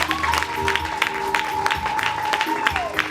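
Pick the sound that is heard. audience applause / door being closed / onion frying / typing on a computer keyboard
audience applause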